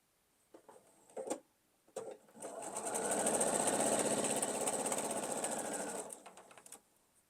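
A sewing machine stitches quilt block pieces in a steady, rapid mechanical whir lasting about four seconds, framed by a few short starts and clicks before and after.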